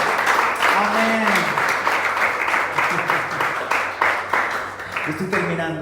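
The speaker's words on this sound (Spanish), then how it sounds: "Dale otro aplauso al Señor." A church congregation applauds after a baptism announcement, a sustained wash of dense clapping with cheering voices mixed in, loud and steady for several seconds before tapering at the end.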